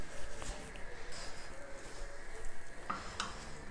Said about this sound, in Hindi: थोड़ा मक्खन लगा के ब्रेड को जो है ना दोनों साइड से हम टोस्ट करेंगे।